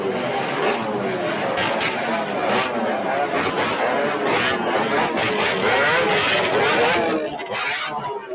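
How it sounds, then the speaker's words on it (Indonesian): Motorcycles fitted with loud modified knalpot brong exhausts rev at a campaign gathering, a steady raspy engine drone under crowd chatter and talk. "sedang berkampanye menggunakan knalpot brong. Anggota kelompok Laskar Arafat sengaja menggeber-geber kendaraannya"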